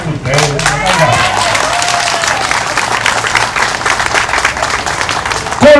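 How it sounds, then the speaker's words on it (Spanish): A crowd at an outdoor Mass in a cemetery breaks into loud, steady applause mixed with cheering; the claps are dense and continuous, with voices calling out throughout. "Un aplauso para ustedes."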